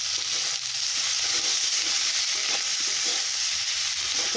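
Fish curry seasoned with salt and turmeric being stirred in a frying pan, a loud, dense, unbroken sizzle with faint scraping movements beneath, close and without speech.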